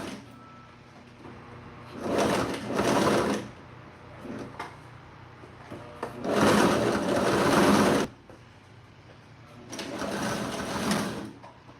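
A sewing machine stitches fabric for cozy bed pillows, running in three loud, steady bursts with quieter pauses between them.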